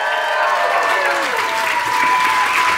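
Wedding reception guests at the Mint Museum in Charlotte applaud and cheer for the newlyweds, a loud, close crowd of clapping and whoops filling the room for a few seconds.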